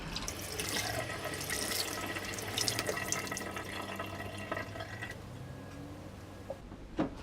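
Water runs from a tap over a polyester filter pad being rinsed during maintenance of a Fluval 206 aquarium canister filter, a steady close splashing stream that carries on without pause.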